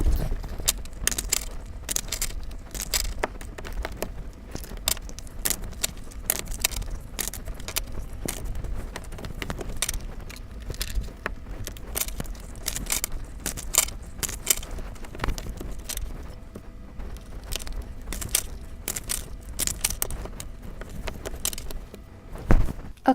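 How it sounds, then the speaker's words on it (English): Continuous rapid, soft riffling and slapping of tarot cards being shuffled, steady and close, with crisp clicks repeating throughout. "I'm going to shuffle your card real quick"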